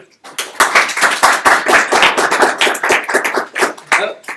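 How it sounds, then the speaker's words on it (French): A small audience at a French Android developer conference claps to welcome a speaker, with distinct, uneven individual hand claps close by, filling about four seconds. "faites-lui un tonnerre d'applaudissements"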